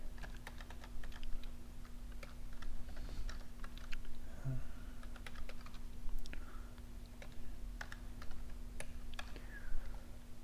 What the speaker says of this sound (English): you go ahead and type in the full number there